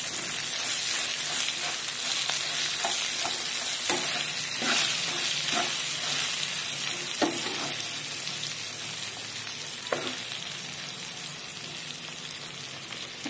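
Green chili mixture with turmeric and salt frying in a pan while being stirred, a steady loud sizzle throughout with repeated scraping stirs, no voices.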